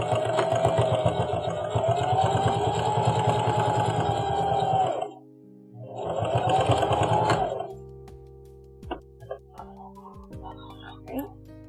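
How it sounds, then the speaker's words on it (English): Sewing machine stitching down a zipper pouch, running in two steady buzzing bursts with a short pause between, then stopping, followed by a few faint clicks and handling noises. "Now we're going to stitch it down."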